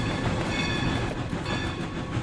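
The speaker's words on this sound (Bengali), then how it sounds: "ঝকঝক শব্দের ধোঁয়া উড়িয়ে ছুটছে ছোট লাইনের সেই ঐতিহাসিক মার্টিন রেল।" The historic 1910 Martin narrow-gauge steam railway runs at speed, a dense, continuous rumble of rolling carriages with faint rhythmic clatter from the wheels.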